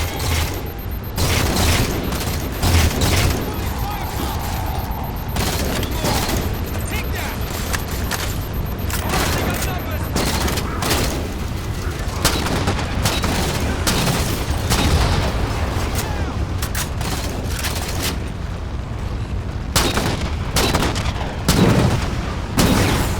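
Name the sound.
railgun fire and explosions in video game Halo 4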